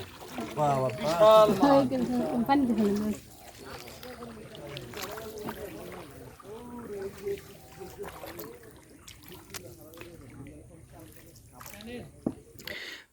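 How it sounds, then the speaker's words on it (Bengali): A boat moving through the flooded Ratargul swamp forest, soft sloshing and trickling water beneath people talking, with a louder stretch of voices early on and occasional knocks. "পানির শব্দে এগিয়ে চলছে আমাদের নৌকা"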